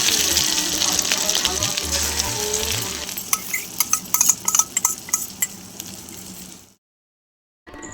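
Beaten eggs mixed with chopped onion and green chilli fry in a pan with a loud, close sizzle, giving way to sharp clinks and scrapes of a utensil against the pan before falling silent.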